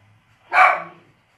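A single dog bark rings out close by inside a room: one loud, sharp burst lasting about half a second, with quiet around it and no talking.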